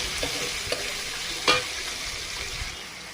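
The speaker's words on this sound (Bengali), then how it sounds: "বেলে মাছ আর টমেটো ঝাল পেঁয়াজ ভেজে নিচ্ছি" Onion, tomato and chili frying in a pan for a bele fish curry, a steady close sizzle with light stirring taps and one brief louder scrape, no speech.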